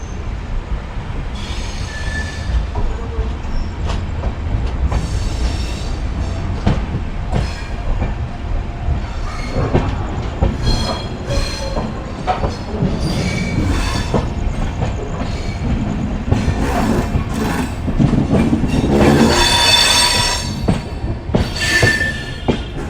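Amritsar–Bikaner Super Fast Express running between Suratgarh Junction and Lalgarh, with steady rumbling wheels, clattering rail joints and bursts of wheel squeal, loud and continuous throughout.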